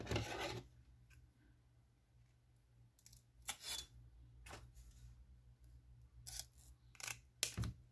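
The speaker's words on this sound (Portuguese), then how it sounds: "então eu tenho que cortar ele assim, um e meio" Scissors snipping through a crocheted baby shoe piece, a series of short dry cuts and rasping blade strokes, close and quiet, with no talking.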